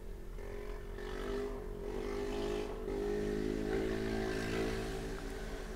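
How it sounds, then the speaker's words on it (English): A loud motorbike passes by outdoors, its engine droning steadily and swelling slightly as it goes past, a continuous throaty hum over several seconds with no talking. "there's a very loud motorbike about to go by"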